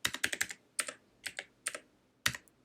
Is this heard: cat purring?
no